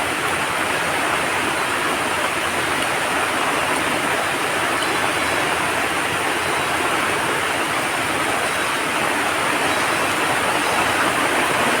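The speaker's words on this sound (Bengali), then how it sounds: "বৃষ্টিটা আসার আর টাইম পাইলো না" Heavy rain pouring steadily onto an outdoor garden, a dense, loud, unbroken wash of noise lasting the whole time with no talking.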